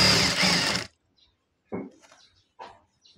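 A sewing machine stitches fabric while a salwar with a gathered waist is sewn; a loud, dense mechanical whir runs for under a second, then stops, leaving only a few faint handling sounds.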